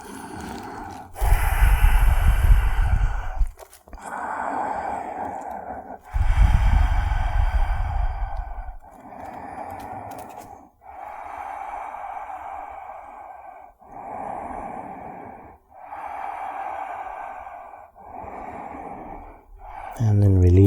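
Slow, deep breathing held through a yoga pose, five audible breath cycles with longer inhale-exhale swells, close and clear with no talking.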